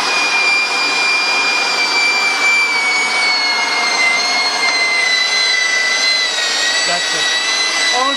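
A Shida SQ30-2B handheld pipe threading machine runs steadily, a loud close whine with high tonal lines that drift slightly in pitch over a constant grinding hiss, with no pauses.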